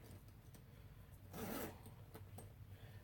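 Large zipper on a vintage Coach bag pulled in one short, quiet rasping stroke, heard alone in a hushed room.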